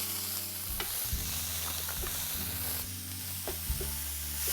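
Very finely chopped capsicum sautés in hot oil, giving a soft continuous sizzle with a low background hum and a few scraping spatula stirs, close but fairly quiet.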